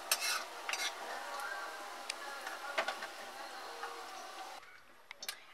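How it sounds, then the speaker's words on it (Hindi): Cashews being fried and stirred in a pan, with a faint sizzle and intermittent light scrapes and clicks of a spoon, close but quiet, easing off near the end. "साथ इसमें डाल देंगे काजू, और इनको लाइट गोल्डन होने तक भून लेंगे।"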